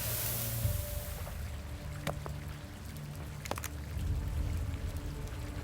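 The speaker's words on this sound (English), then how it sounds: "See, and there's the water." Soft lapping, trickling water in a horror video game, faint and continuous, with a few sharp clicks and low ambient hum layered over it and no voices.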